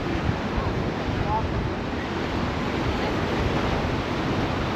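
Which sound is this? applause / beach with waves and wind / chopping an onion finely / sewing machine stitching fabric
beach with waves and wind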